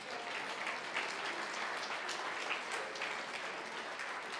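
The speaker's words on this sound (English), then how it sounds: "Big round of applause." Sustained applause fills a business networking meeting hall as a standing audience of members claps steadily, dense and even throughout with no pauses.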